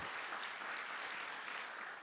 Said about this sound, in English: Yeah, we can clap to that.